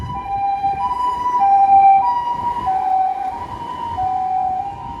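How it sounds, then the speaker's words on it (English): A Japanese ambulance siren passes on a Fukuoka street, very loud and close, its two-tone wail rising and falling in steady alternation over low traffic rumble. "Japanese ambulance sirens are insanely loud."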